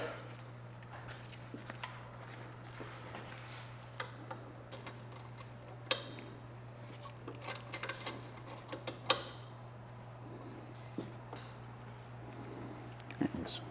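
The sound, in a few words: removing a bolt with a 4mm bit and 1/4 inch wrench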